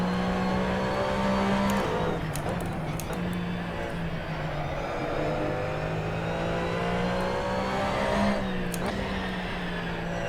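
An Audi Sport Quattro S1 races around the Highlands track in a video game, its engine droning loudly and steadily with pitch that rises, dips through corners and climbs again, alone without talk.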